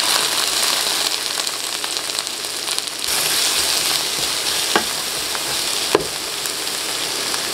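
Spinach and ampalaya frying in hot oil in a home kitchen pan, a loud continuous crackling sizzle with occasional sharper pops and stirring scrapes, no voices.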